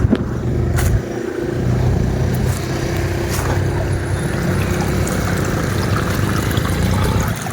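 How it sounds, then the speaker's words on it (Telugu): Water runs off beside a road in a continuous rushing wash. A vehicle noise briefly swells near the start, and no one speaks. "చూడండి వాటర్ వెళ్ళిపోతుంది అనమాట."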